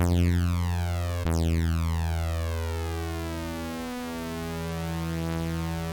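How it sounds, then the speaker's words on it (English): A sustained buzzy Serum 2 wavetable synth tone with phase randomization, sweeping, phasing harmonics that whoosh up and down like a laser, steady and loud throughout with no voices. "you're gonna hear like this cool lasery effect"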